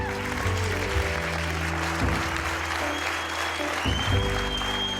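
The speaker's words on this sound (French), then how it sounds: "le trio est accueilli par un tonnerre d'applaudissements" Applause from a film screening audience at the end of a projection, a steady wash of clapping heard from within the room, fairly loud and continuous throughout.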